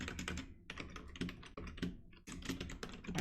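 Rapid, steady keystrokes on a computer keyboard, close and clear, with short pauses between bursts of typing and no voices.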